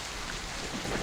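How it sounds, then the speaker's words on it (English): Light, steady rain patters continuously on surfaces inside a fortress setting, a broad soft hiss with no distinct thunder crack standing out, though a faint low rumble rises near the end. "It's a fairly light rain."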